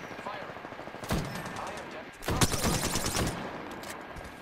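Gunfire from the Apex Legends game comes in two loud bursts of rapid shots over a mix of background game noise and faint voices.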